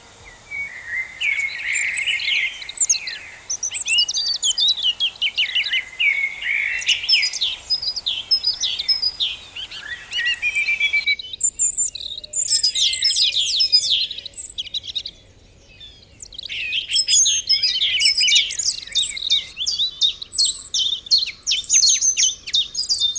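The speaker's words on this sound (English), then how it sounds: "March and April are also the months when the birds start singing, as they look for a mate and guard their territories." Wild birds sing in the New Forest in spring: many overlapping chirps, trills and whistles from several birds, some near and some farther off, continuous and fairly lively, with no voices.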